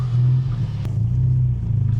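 A big-turbo 350 bhp VW Scirocco TSI GT drives along with a loud, steady low engine drone and a brief clatter partway through, heard up close from inside the car.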